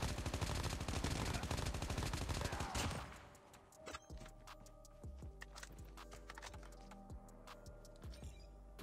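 Hipfire gunshots in Call of Duty Mobile: dense rapid automatic gunfire rattles for about three seconds, then gives way to quieter scattered game effects, isolated shots and a low background tone.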